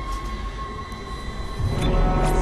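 Tram rumbling through the Ishimura tram system in the sci-fi horror game Dead Space, a steady low mechanical roar with a faint whine that swells louder near the end.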